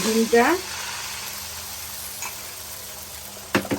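Beaten eggs seasoned with pepper and salt sizzle in a wok, a soft steady hiss after a brief voice at the start, with a sharp clatter near the end.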